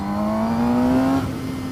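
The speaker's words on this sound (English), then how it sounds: "Not to mention a noticeable change in the induction noise." A Suzuki GSX-S750 motorcycle engine drones close by with a rising, whirring induction tone that climbs in pitch, then settles as the revs ease off.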